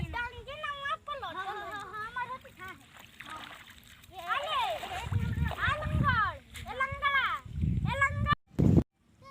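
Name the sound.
children swimming and splashing in water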